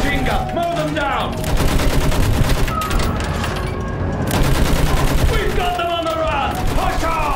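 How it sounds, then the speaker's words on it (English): Machine gun fire rattles in a Battlefield war game, with rapid bursts and scattered gunshots up close, and shouted voices over the firing. "Use that machine gun! Mow them down!"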